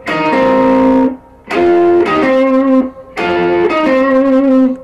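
Blues electric guitar lick with a double-stop bend and a whole-step hammer-on, played through effects in three loud sustained phrases separated by short gaps, no voice.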